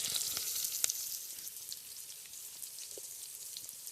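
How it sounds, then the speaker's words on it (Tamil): Onions sautéing in a pan until golden for a Tamil quail (kaadai) gravy give a steady, close crackling sizzle with scattered pops and spits throughout, and no voices. "வெங்காயம் நல்லா பொன்னிறமாக வதங்கி வந்தாச்சு."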